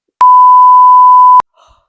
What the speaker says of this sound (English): I'm gonna bleep that